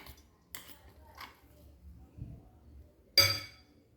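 Chicken mince is moved from a mixer jar into a bowl with a few sharp clinks and taps of dishes and utensils, sparse knocks followed by one louder ringing clink near the end.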